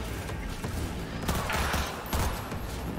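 Gunfire in the video game Cyberpunk 2077, a steady stream of loud shots with heavier bursts standing out, rattling along continuously in the middle of a fight.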